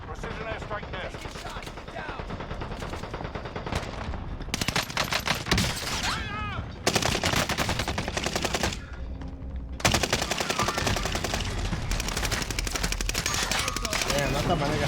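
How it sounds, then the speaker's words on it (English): Explosive blasts and heavy gunfire from a precision airstrike in Call of Duty Warzone, a dense, loud, continuous barrage with brief gaps, under faint game voices. "Strike inbound. Enemy soldier nearby. Precision airstrike there."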